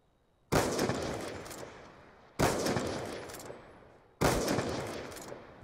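Three loud sniper rifle shots from a one-on-one snipers-only video game match, each a sharp crack with a long fading tail, spaced about two seconds apart with no talking over them.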